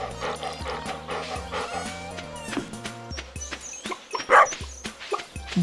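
Cartoonish dog barks and small yips from the farm dog in Stardew Valley, a few short calls over upbeat game music and busy farm effects, fairly close.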